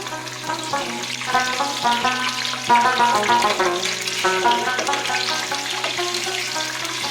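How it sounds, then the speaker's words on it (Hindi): Green chilies frying in hot oil for a restaurant-style beef karahi gosht, giving a steady, fairly loud sizzle throughout with a constant tonal hum underneath. "ग्रीन चिलीज को भी फ्राई कर देंगे।"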